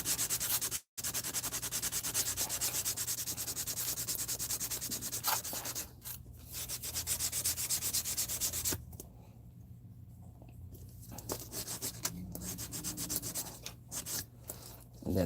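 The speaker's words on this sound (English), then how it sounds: "And then I always sand the backs of it to give it some connection bite." Sanding the back of a plastic transkit part for a 1970 Chevelle restomod, a continuous close rubbing and scraping with a few brief pauses and a quieter stretch partway through.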